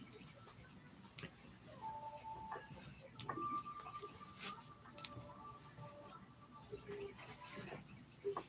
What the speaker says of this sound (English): Listen at the birds chirping.